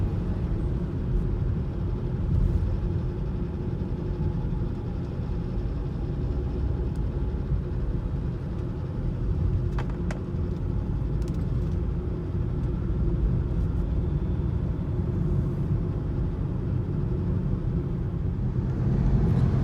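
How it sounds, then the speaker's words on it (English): Cosmo Mucho Macho tires on a car give a steady, low road rumble heard from inside the cabin while driving, a continuous droning hum with faint rattles and no talking. "I just wanted to take notice of the tire noise that is coming in the cabin."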